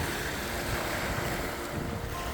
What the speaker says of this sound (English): The bay. This is the bay.